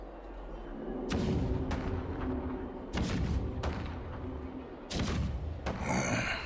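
Cannon fire booms in a Honkai Star Rail cutscene: several heavy blasts roll out at uneven intervals, each followed by a deep rumble, loud and close with no talking.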